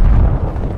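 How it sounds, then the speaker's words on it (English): Frag grenade blast in Call of Duty Black Ops Cold War multiplayer, a loud low rumbling boom filling the short moment with no talk over it. "Throwing frag."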